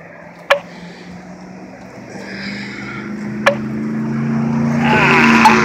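Traffic rumbles across a bridge in a low, swelling drone that builds toward the end, with a couple of sharp knocks punctuating the steady roll.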